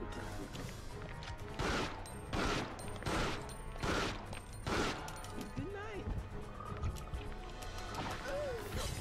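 Rapid bursts of game gunfire aimed at hunters in Biohazard Outbreak File 2 on PS2, five or six sharp shots in a row followed by creature cries and scuffling, with game music and voices underneath.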